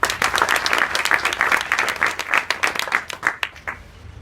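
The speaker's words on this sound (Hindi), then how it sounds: "ताली बजाओ।" Students at a school adolescent education session clap together in a dense, steady burst of applause that fades slightly toward the end, with no talking.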